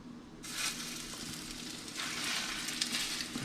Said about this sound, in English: we got our oil heating up here with our meaty balls. So I'm gonna go ahead and add these bad boys in